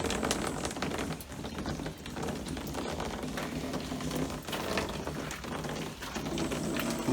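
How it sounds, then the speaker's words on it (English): Water pouring into a workshop tank and hitting the bottom, a steady dense splashing hiss with a low rumble, continuous and fairly quiet throughout with no voices. "that's the sound of water hitting the bottom of the tank"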